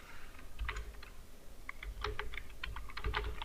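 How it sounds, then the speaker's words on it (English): Fingers tap out a short burst of keystrokes on a keyboard while entering list items in a Google Docs app, light, irregular clicks over a soft low hum, no voices. "I will type"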